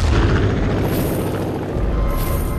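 A loud, close explosion in Far Cry 5, a deep rumbling boom that fills the whole clip and rolls on as a sustained roar without fading away.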